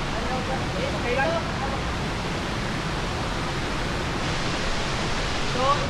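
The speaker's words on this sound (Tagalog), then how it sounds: "So ito, guys, yung Iglibog Falls kung saan nasa ilalim siya ng bato." Iglibog Falls pouring beneath rock on a hike in Igbaras, Iloilo, gives a steady close roar of falling water that fills the whole clip, with faint voices underneath.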